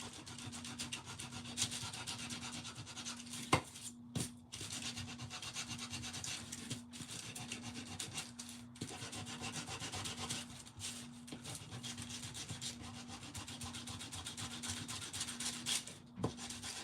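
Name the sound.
sanding the edges of a primitive wooden craft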